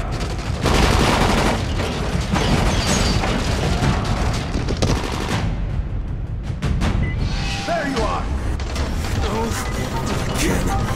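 Gunfire from the video game Dying Light, dense bursts and booms with crashes mixed in, loud and continuous through the scene, with voices talking over parts of it.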